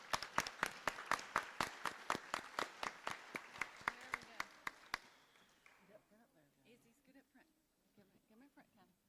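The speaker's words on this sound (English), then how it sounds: "If we could give them another round of applause" Audience applause for National Honor Society seniors at a Kentucky high school ceremony: a small crowd's brisk, even clapping for about five seconds that then fades out as a voice begins talking.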